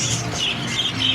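A pet parakeet, one of a pair of sibling budgies kept for breeding, squawking close by in a quick run of sharp, bright, repeated calls with no talking.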